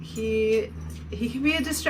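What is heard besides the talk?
No everyday noise stands out behind the speech.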